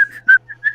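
Someone attempts to whistle, and short, breathy tonal bursts start and stop unevenly in under a second, near and fairly loud with no talk over them.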